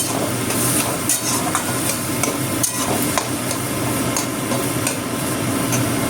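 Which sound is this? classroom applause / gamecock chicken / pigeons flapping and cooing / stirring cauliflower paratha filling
stirring cauliflower paratha filling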